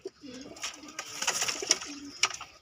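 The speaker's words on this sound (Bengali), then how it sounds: "ম্যাড্রাস পায়রা আছে।" Pigeons at a home loft, including a Madras pigeon, giving soft low coos that repeat in short phrases amid rustling and clatter, close by and fairly quiet.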